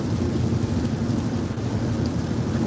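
Steady rain pours down in North County San Diego, a dense, unbroken hiss with a low rumbling undertone throughout.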